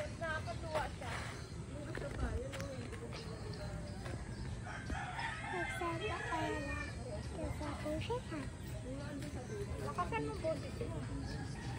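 Chicks and chickens cluck and peep close by, a busy run of calls that rises in the middle, while people talk over them.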